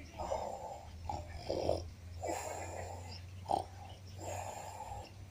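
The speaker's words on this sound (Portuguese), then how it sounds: "a capivara resolveu pegar um som mesmo, tá até roncando ali" A capybara snoring while lying in the sun outdoors, with five or six slow, rhythmic rasping snore breaths close by over a low steady hum.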